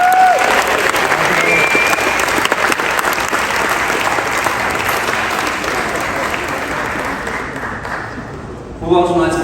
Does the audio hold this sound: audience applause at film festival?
yes